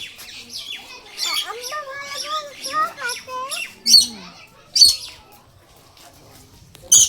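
Birds squawking and calling at a zoo, short sharp cries rising over children's and adults' chatter, with a few loud close bursts near the end.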